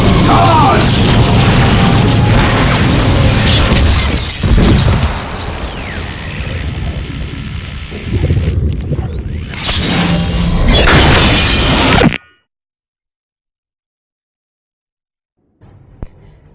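Monolith being destroyed in the Warhammer 40k Dawn of War: Dark Crusade video game, heavy booming blasts and shattering crashes rolling on loudly for several seconds before cutting abruptly to near silence.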